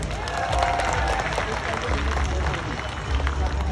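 Audience applause and crowd noise at a tiger show in an amusement park, a steady broad wash of clapping lasting throughout, moderately loud, with scattered voices mixed in.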